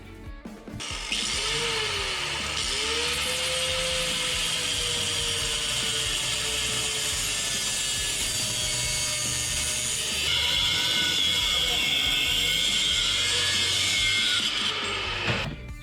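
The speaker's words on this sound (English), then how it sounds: "so I'm just gonna cut it off with a grinding wheel" A grinding wheel cuts through aluminum intake tubing for a Predator 212 engine, giving a steady, bright, high-pitched whine that holds for around fourteen seconds, turns harsher and louder toward the end, then stops, with no talking.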